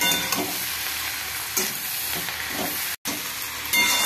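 Onions frying in a pan for Deoghar-style mutton atthe, a steady close sizzle and hiss with occasional stirring scrapes and a brief cut near the end.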